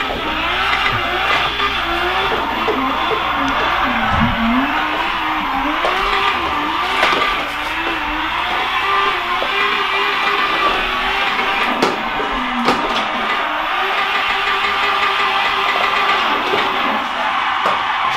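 Drift car in a racing simulator game on a track replica, with a loud, continuous engine roar rising and falling in revs and long tire squeals as the car slides through corners, with no voices.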